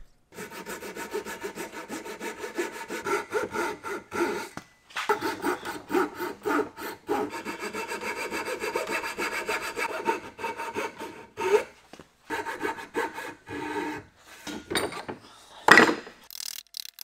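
Hand saw cutting through wood for a dovetail box, a steady back-and-forth rasping of repeated strokes close by with short pauses, then a few sharper scrapes and knocks near the end.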